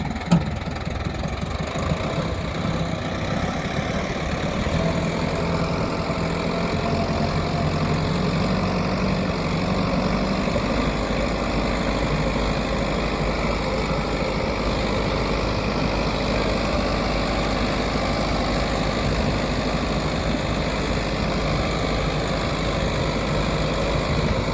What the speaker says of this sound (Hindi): आज हम आपके लिए लेके आए हैं सोनालिका DI 750 सिकंदर सीरीज का 4 सिलेंडर 55 HP का ट्रैक्टर है।